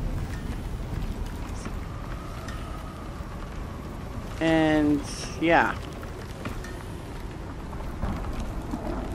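Steady rain from a storm in the survival game Icarus hisses throughout, with a low rumble underneath, while someone briefly speaks over it.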